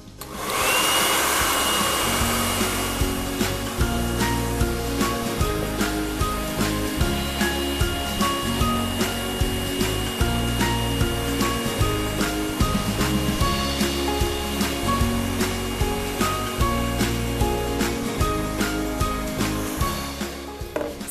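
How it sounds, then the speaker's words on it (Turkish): A hair dryer blows hot air onto a sticker label to loosen it, a loud, steady roar with faint rhythmic ticking running through it for the whole stretch. "Yapacağınız sadece bir fön makinesi."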